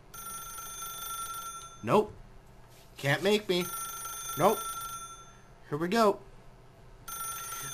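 An office telephone rings inside the video game The Stanley Parable, a steady electronic tone that keeps sounding in the background while someone talks over it in short bursts.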